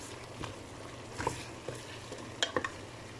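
Chicken macaroni being stirred in a pan, a soft low sizzle with a few light scrapes and clicks of a utensil, fairly quiet and close, no talk.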